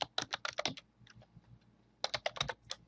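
Typing on a computer keyboard while entering a function search in Excel: two quick bursts of close, crisp keystrokes separated by a short pause with a few scattered taps.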